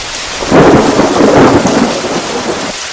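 Steady rain hissing over a low rumble of thunder that swells and fades, close and fairly loud.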